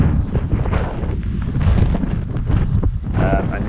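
Strong wind buffets the microphone while fly fishing with an 8-weight rod, a loud continuous rumbling roar with gusty surges throughout.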